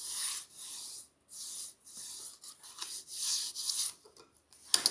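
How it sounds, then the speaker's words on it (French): A sheet of paper being folded back gives a series of soft rubbing, rustling swishes in bursts with short pauses, ending in a few sharp crinkles. "On va plier la feuille en arrière à l'angle droite, qu'elle tienne debout sur les 2 bords, face à face."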